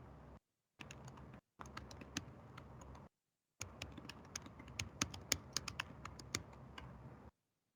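Rapid typing on a computer keyboard, bursts of crisp, close key clicks broken by short silent gaps and ending abruptly, with no voices.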